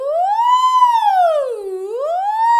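A lone voice sweeps smoothly up and down in pitch on an open vowel, imitating a siren in a continuous gliding warm-up.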